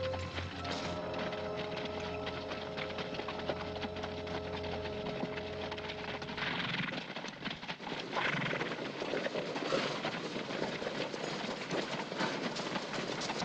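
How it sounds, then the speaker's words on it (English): Horses in a 1957 Western film clip-clop and whinny at a moderate distance, hooves beating unevenly over a low rumbling background, with a steady hum fading out partway. "Horses."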